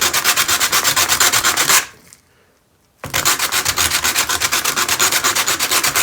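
A gourd is rubbed by hand against a sheet of coarse 60 grit sandpaper, making steady, rhythmic rasping strokes up close; the strokes pause for about a second partway through, then resume at the same brisk pace.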